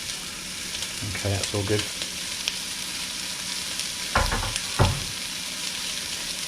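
Celery fries in a pan for a vegan chilli with a constant close sizzle. Spoon scrapes and stirring knocks come in short bursts, and a brief spoken remark comes over the cooking.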